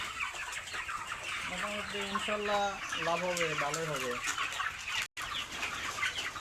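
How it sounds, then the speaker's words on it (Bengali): Broiler chickens on a poultry farm of about thirteen hundred birds, clucking steadily as a dense flock, with a few louder nearby calls rising over the constant crowd noise. "আমার এখানে এখন মুরগি আছে তেরোশো পিস"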